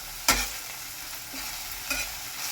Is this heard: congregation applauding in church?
no